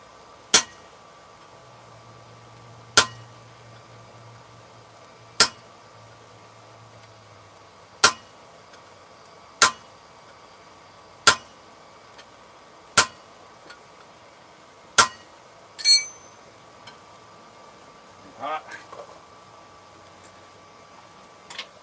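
While forging rock horns, metal is cut with a series of sharp, ringing metallic strikes, about nine, spaced evenly a couple of seconds apart in an otherwise quiet shop, followed by a few softer scrapes, with no talking.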